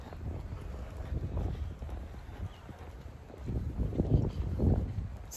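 Wind gusting outdoors on a blustery, cool day in Australia, buffeting the microphone with low rumbling noise that swells and fades, loud and close, with no talking.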